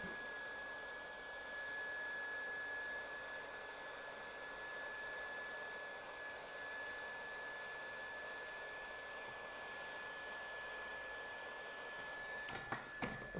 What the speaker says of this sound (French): On prend notre pistolet air chaud. Hop. Et on y met de l'air chaud.